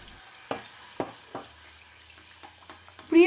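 A spoon stirs milk into a butter and flour roux in a pot, giving a few soft scraping strokes at a slow, uneven pace with a faint sizzle beneath, then a louder clatter at the end.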